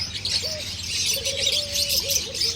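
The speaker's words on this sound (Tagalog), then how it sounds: "Yan, may ingay yung mga bird." Birds chirp and twitter in a busy chorus at the Pearl Fountain Monument on the Doha Corniche, with soft dove-like coos beneath and a low background hum.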